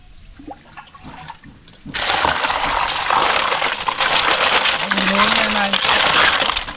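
Freshwater snails being washed in water, a continuous loud sloshing and splashing rinse that begins abruptly partway through, close by, with a voice speaking over it.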